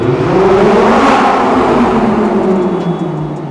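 A car engine revs hard in a parking garage, a loud, continuous throaty roar whose pitch drifts slowly downward over a few seconds, close and with no talking.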